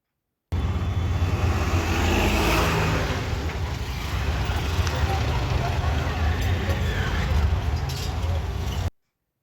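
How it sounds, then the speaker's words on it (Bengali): Steady, loud engine drone and road rumble fill the ride inside an auto rickshaw on a main road, continuous and close from start to finish. "আমরা দেখো অটোতে উঠে গেছি, আমরা এবার বাড়ি চলে যাচ্ছি"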